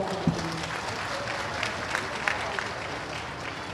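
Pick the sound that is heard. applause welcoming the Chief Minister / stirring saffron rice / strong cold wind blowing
applause welcoming the Chief Minister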